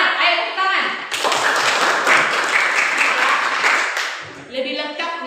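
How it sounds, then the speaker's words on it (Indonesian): A classroom group breaks into brisk applause lasting several seconds, with talking before and after the clapping. "Ayo tepuk tangan."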